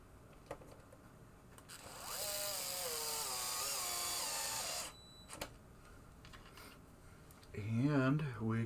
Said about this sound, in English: Now we put these screws back in.